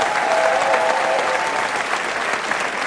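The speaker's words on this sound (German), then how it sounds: "Einen Applaus" Studio audience applause on a German Sunday entertainment TV show, loud, dense continuous clapping from a large crowd with a faint cheer near the start.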